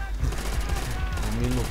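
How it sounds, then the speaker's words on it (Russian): MG-42 machine gun in Call of Duty: World at War, a rapid stream of gunfire with a dense, rumbling low end, close and loud, mixed with other battle noise and a brief tonal sound near the end. "Бензопила Гитлера, так ее называли. МГ-42."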